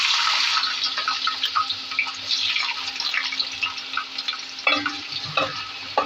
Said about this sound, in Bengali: তেল গরম হয়েছে, এখন পেঁয়াজটা ছেড়ে দিলাম।